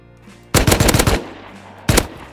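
Gunfire in the survival video game Rust: a loud, rapid burst of several close shots, then a pause and one more sharp shot, with no talking.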